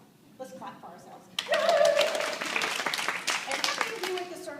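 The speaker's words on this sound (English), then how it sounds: "Let's clap for ourselves." Women's fall gathering audience at Grace Church applauding together, the clapping starting suddenly and staying dense and steady under cheers and overlapping voices.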